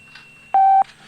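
A steady telephone tone on a radio call-in talk show line, a single loud beep lasting about a quarter second over a faint constant line hum, with brief softer blips around it.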